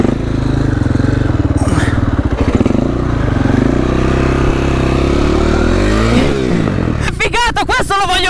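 A motorcycle engine revs hard and close during trick riding, a loud sustained roar with a sharp clattering burst near the end.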